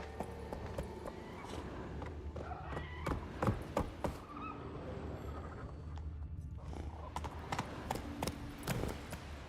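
Roach, the horse in The Witcher 3, galloping with rapid, rhythmic hoof clops over a steady ground rumble, along with scattered louder thuds and a brief snort or whinny.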